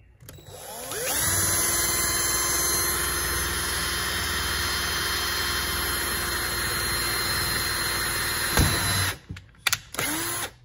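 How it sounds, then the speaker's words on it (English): A power drill bores a nail hole through the limb of a homemade foldable bow, its motor whining at a steady loud pitch for about eight seconds before stopping, followed by a few short bursts and clicks. "drill all the way through"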